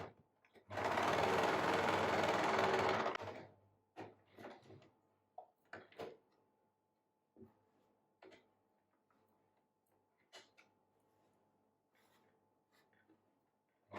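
A sewing machine stitching a dart in a churidar lining runs in one loud, steady burst of a few seconds. Quieter ticks, taps and fabric handling follow, close up.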